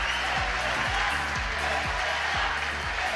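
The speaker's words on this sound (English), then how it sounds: "You'll probably hear in the background the crowd reacting to the players coming into the arena" Steady crowd murmur with scattered cheers fills a badminton arena as players walk out for a men's doubles semifinal, a continuous dense roar without breaks, while a low rhythmic thumping repeats underneath.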